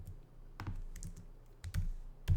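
Keys tapped on a computer keyboard while entering a Pantone 106-1U color code, sounding as a few sparse clusters of close clicks separated by short pauses.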